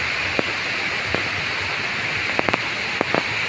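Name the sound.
Cambugahay Falls waterfall, Siquijor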